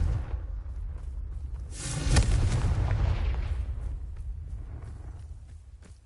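A Confringo blasting spell explodes in the Hogwarts Legacy video game, a deep booming blast that bursts out about two seconds in over a low rumble, then slowly dies away.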